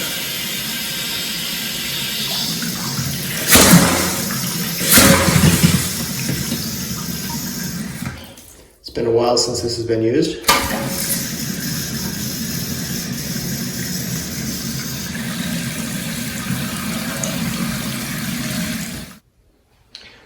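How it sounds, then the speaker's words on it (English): Water rushes and hisses steadily into a newly installed toilet tank for most of the stretch, with a brief sputtering burst partway through; a voice speaks briefly over it. "I'm gonna turn on the water. It's gonna spit at me a little bit."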